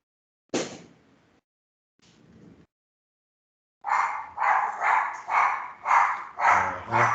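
Dog barking in a lively run of about seven repeated barks, close and fairly loud, following a couple of brief earlier yelps and whimper-like sounds.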